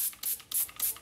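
Easy Off oven cleaner is sprayed inside a glass oven in four short, hissing bursts separated by brief pauses, close and fairly quiet.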